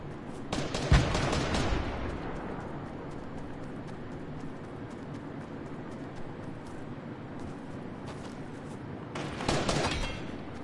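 Gunfire in the video game Fortnite: sharp bursts of shots at the start and again near the end, separated by quieter game ambience, with no talking.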